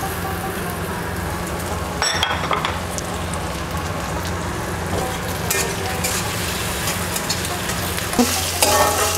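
Chopped tomato hits browned onions with chilli and two bay leaves in a pan for a chicken and potato curry, giving a steady crackling sizzle, with sharp clinks and scrapes of stirring near the start and end.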